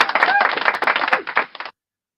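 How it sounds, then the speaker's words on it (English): A short, dense burst of clapping and applause for a news network's on-air show, fairly close and loud, running steadily for under two seconds before cutting off abruptly. "round of applause for NCR News Network"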